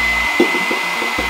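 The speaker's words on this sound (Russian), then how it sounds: "на твою капсулу попадает тепло от моего фена" A handheld hair dryer blows hot air onto an ice capsule with a steady, loud whooshing drone, and its motor pitch shifts briefly as it moves.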